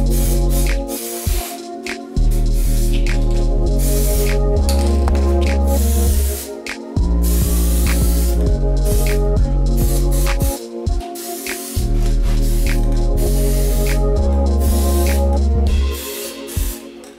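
Aerosol spray paint laying gloss black onto a cheap 4x4's headlight surrounds, a series of steady hissing bursts separated by short gaps, set under loud continuous background music.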